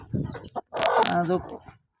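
Free-range country hens cluck close by in short, loud bursts, with a strained, drawn-out call in the middle before the sound stops.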